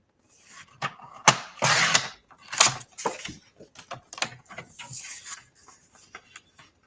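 Paper is trimmed to size for a handmade card on a cutter, heard up close as a run of short scraping strokes and sharp clicks, with quieter handling noises between them.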